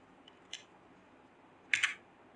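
Quiet keystrokes on a computer keyboard: a few soft isolated taps followed by a quick cluster of two or three clicks in an otherwise quiet room.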